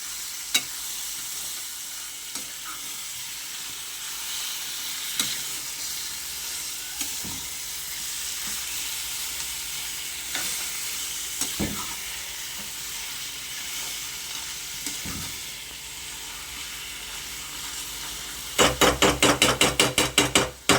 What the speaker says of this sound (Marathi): चिकन घालत आहेत. बारीक गॅस करून घ्यायचा आहे. परतून घ्यायचं आहे सगळं.